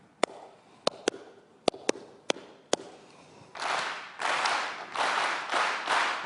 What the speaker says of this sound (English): I'm going to clap a pattern.